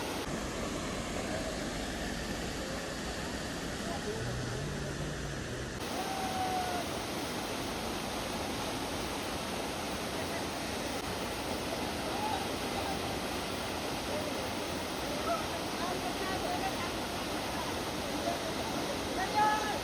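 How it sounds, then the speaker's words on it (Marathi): A large village waterfall roaring as a steady broadband rush of falling water, continuous and fairly distant, with a faint voice and an abrupt change in the background early on. "समोर बघा मोठं वॉटरफॉल आहे."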